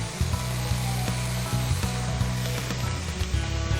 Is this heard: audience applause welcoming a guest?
no